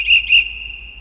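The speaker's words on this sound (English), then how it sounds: "The whistle's used for something." A dog whistle in a modded Minecraft game gives two quick, bright, sustained tones in succession, with a faint steady tone lingering after them.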